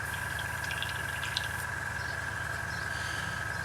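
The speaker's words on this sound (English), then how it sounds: "that's my compressor kicking in once again" Airbrush compressor for painting a 1/48 Hasegawa Nakajima B5N2 Kate scale model hums steadily with a low motor drone and a constant whine, running continuously and moderately quiet nearby.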